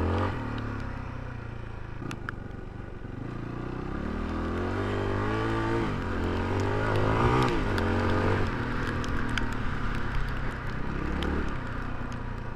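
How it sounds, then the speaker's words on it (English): A Yamaha WR400 enduro motorcycle ridden in wet conditions: a steady, loud engine drone that rises and falls with throttle changes, with occasional clatter and knocks from the bike over continuous rumbling. "it's nice to be out in the bike"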